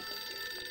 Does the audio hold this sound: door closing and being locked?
no